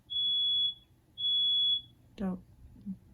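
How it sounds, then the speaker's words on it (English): Two long, piercing electronic beeps from a smoke alarm, followed by a short burst of a voice speaking. "our smoke alarm went off"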